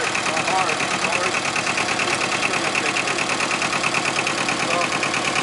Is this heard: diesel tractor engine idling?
yes